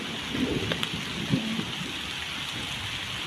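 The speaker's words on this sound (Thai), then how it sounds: "ฝนตก" Rain pours down over open rice fields while a few thunder rumbles roll through, a steady wet hiss under brief low booms, with no speech.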